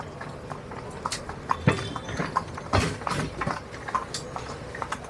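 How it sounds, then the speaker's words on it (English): Horse-drawn buggy touring downtown Nassau, Bahamas, with hooves clip-clopping on the street in an uneven trotting rhythm, clear and close amid faint street ambience. "That was a quick tour of Nassau by horse and buggy"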